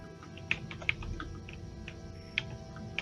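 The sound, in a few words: typing on a computer keyboard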